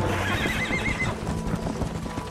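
Horse hooves clip-clop steadily in the Red Dead Redemption video game while a horse whinnies loudly in the first second, the clopping continuing close and rhythmic to the end.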